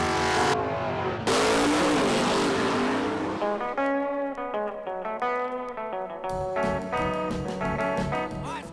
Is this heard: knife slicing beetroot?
no